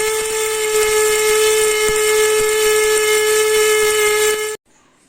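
A mini electric grinder whines at a high, steady pitch while grinding green gram, a loud continuous motor drone with faint rattling that cuts off abruptly near the end.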